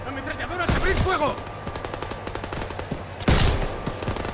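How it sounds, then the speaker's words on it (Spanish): Rapid bursts of automatic machine-gun fire crackle through a loud Call of Duty: WWII game soundscape, with a heavy blast near the end. "Ametralladoras, abrid fuego."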